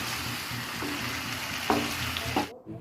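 Mustard oil, about two cups, heats in a pan with a steady close sizzle and crackle, broken by a few scraping stirs, then cuts off.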